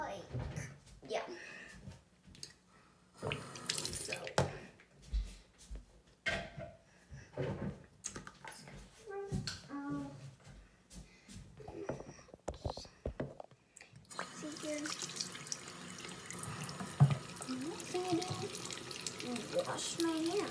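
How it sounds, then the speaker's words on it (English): A tap runs at a bathroom sink during hand washing, water splashing in intermittent bursts between quiet stretches, then flowing steadily and closer toward the end, with soft whispered talk at moments. "Wash my hands."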